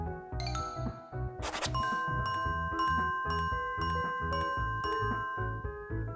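Bright bell-like chimes ring out in a Nintendo Switch video game, a steady run of repeated ding tones over busy, looping game music with a brief burst of jingling near the start.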